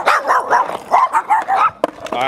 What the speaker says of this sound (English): Look at that dog.